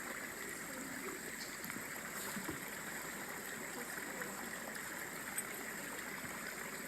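A small creek or river being crossed on foot, its water flowing in a steady, even rush of broadband noise that stays constant throughout with no clear voices.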